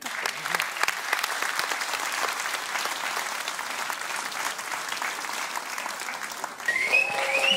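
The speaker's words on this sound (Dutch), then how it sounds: "Wat een applaus." Audience applause fills a singing contest hall, dense and continuous clapping at moderate loudness, with a brief swell and a voice cutting in near the end.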